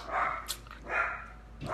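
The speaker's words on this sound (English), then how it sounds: "your dog all day. Bark, bark, bark." A dog barks three times in an irregular rhythm, each bark fairly close and moderately loud, separated by short pauses with quiet room tone between them.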